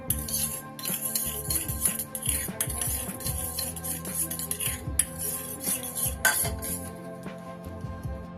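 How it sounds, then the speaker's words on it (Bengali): A spoon stirring a tomato sauce mixture in a bowl, with steady clinks and scraping rattles of metal against the dish, close and continuous, no talking. "এটা একটা ভালো করে মিশ্রণ তৈরি করে নেব। সুন্দর করে মিশিয়ে নিলাম।"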